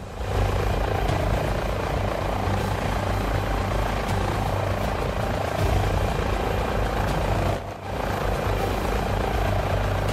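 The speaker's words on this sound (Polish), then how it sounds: "H145 od Airbusa." An Airbus H145 helicopter in TOPR rescue livery flies over the Tatra mountains in a flight simulator, its rotor and turbine roaring loud and steady with a continuous throbbing drone and a brief dip near the end, no voices.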